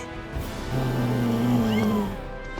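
A kitten in the video game Final Fantasy VII Rebirth gives one drawn-out, tonal meow lasting about a second, clear and close over soft game background sound.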